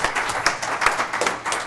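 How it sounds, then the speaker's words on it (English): Audience applause at a city council candidates forum in Walla Walla, a steady patter of many hands clapping from a crowd, moderately loud and continuous without talk. "maybe you ought to contribute some applause to these full-time candidates"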